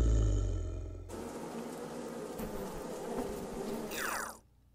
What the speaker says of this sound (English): So send in the bees.